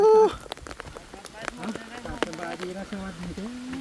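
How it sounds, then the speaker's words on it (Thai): Heavy rain pours down in a steady, dense hiss that runs throughout, while someone talks over it close by. "ฝนตกฝนตก"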